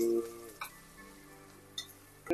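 Sliced onions fry in a hot pan at home, stirred while still pinkish and catching on the bottom. A faint, quiet sizzle runs throughout, with two brief scraping stirs and a steady low tone beneath.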